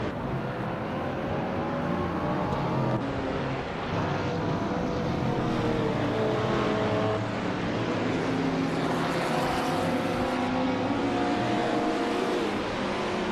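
Race cars roar continuously in a racing video game, several engines overlapping with rising and falling harmonic whines, loud and steady throughout with no pauses.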